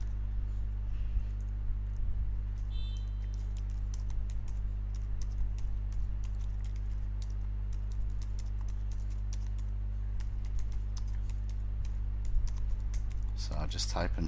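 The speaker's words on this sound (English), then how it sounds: "So I'll just type in something like that." Computer keyboard typing, a steady run of light clicks and taps continuing throughout over a constant low hum, fairly close and moderately quiet, with a brief burst of busier keystrokes near the end.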